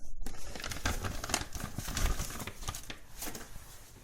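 A blue plastic shipping bag from a Smith & Wesson M&P 9mm Shield pistol package is crinkled and handled up close, giving continuous crackling and rustling with no voices.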